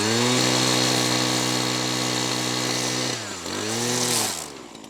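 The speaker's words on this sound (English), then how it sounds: "Here we're just going to use a regular trimmer head with your string trimmer." Gas-powered string trimmer fitted with a regular trimmer head, engine droning steadily at high revs as it cuts, then dipping in pitch around three seconds before revving back up and fading near the end.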